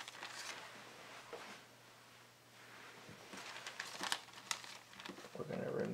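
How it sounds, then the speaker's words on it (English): A plastic bag crinkles softly as a sheet of cardboard is set inside it for growing oyster mushrooms. The sound comes as faint, close rustles and crackles in irregular bursts, with a few sharper crinkles near the end. "I want to set my cardboard inside of the plastic bag."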